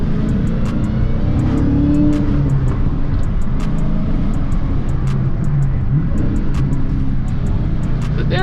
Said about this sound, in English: I just want you guys to listen to the supercharger